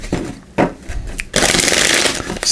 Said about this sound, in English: So we use a couple shuffles.